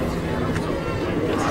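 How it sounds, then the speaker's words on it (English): A large crowd of thousands gathers outside a courthouse during a trial, producing a steady, close wash of overlapping voices and murmuring. "You hear the crowd. There's crowds of thousands here."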